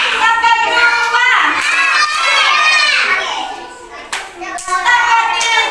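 Children in a classroom chant counts together in a high sing-song voice, joined by a few sharp claps, with the group voices dominating and the clapping brief and sparse.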